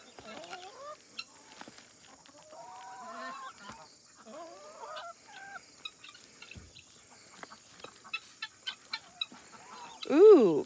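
Guinea fowl call on a farm in a scattered run of shrill, chattering cries, some near and some farther off, with soft pecking and patter between them and a louder burst of calls at the end.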